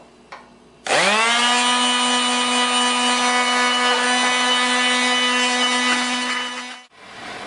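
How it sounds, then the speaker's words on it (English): A loud, steady high-pitched whine of a small rotary tool lightly sanding bone during foot surgery, grinding continuously for several seconds, then cutting off abruptly. "we're going to have to smooth up on these bones with some light sanding"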